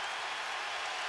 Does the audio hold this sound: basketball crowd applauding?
yes